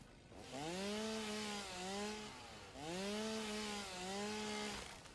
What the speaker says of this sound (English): I do have my chainsaw.